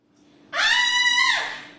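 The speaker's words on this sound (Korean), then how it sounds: "여자 화장실에서 비명이 들립니다." A woman lets out one sustained high-pitched scream in a women's restroom, loud and close, rising suddenly and fading away after about a second.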